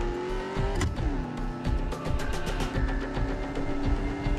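Engine of a car driving slowly in the video game Medal of Honor Warfighter, a continuous loud hum with a pitch drop after a gear change, under game music and effects.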